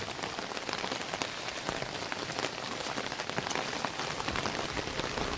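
Heavy monsoon rain pours down in Konkan, a dense, continuous hiss of drops beating on surfaces, loud and unbroken.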